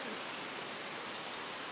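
Steady rain falls outside a house, a dense continuous hiss of drops on surfaces with no pauses, fairly close and even in level throughout.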